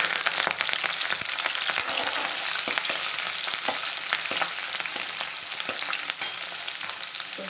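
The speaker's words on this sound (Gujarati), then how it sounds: "આ તેલ ગરમ થઈ ગયું છે। સૌપ્રથમ આપણે નાખીશું લસણ," Garlic and green chillies sizzle in hot oil for a Gujarati fenugreek and pigeon pea dish, a steady broadband hiss with scattered crackles and spatter pops throughout, close and alone with no talking.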